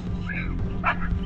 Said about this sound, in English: a neighbor's dog can be seen running in hot towards him